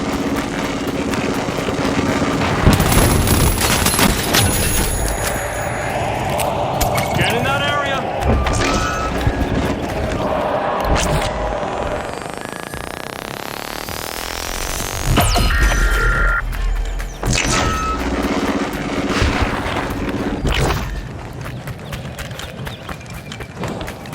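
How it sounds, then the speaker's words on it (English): Frag and pyro grenades burst in the shooter game The Finals: sharp, loud blasts around three and fifteen seconds stand out over busy gunfire and gameplay noise, with fainter effects rumbling in between. "Tossing a frag! Using pyro grenade!"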